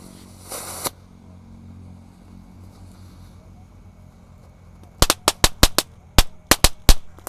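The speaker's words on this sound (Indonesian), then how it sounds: "Selanjutnya ini ada mercon tank." A tank-type firecracker lit during Ramadan night celebrations fires a rapid burst of about ten sharp cracks near the end, after an earlier brief fizzing flare and a long quiet stretch.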